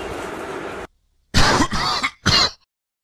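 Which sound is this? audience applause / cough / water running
cough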